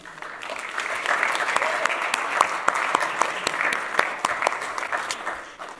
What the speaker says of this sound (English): Let's give them a warm round of applause as they come out.